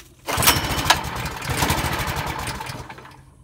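Predator 212cc engine on a Harbor Freight trash pump, started cold on choke, briefly sputtering and firing in a rapid, uneven chugging burst, loud and close, then fading out as it dies.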